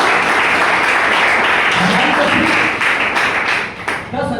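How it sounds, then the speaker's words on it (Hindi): Loud, sustained applause from a crowd at a company business-plan presentation: dense clapping holds for several seconds, then thins slightly near the end. "चाहो कंपनी में एक बार जोरदार ताली, जोरदार।"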